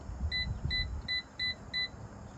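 An air fryer's control panel beeps five times in a steady rhythm as the temperature is set, short and clear tones over a low background hum.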